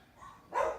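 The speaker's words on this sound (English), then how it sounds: "My dogs are going crazy" Dogs bark once, a single short bark from a short distance, preceded by a faint whine over low background noise.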